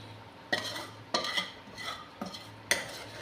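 Metal spoon scraping and clinking around a pot of dal as a cumin, onion and garlic tempering is stirred in, a few distinct strokes, close and fairly quiet, with a faint low hum underneath.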